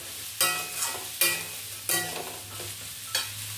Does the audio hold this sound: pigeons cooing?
no